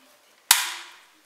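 One sharp, loud crack from a prop pistol fired during a music video shoot, decaying quickly into silence.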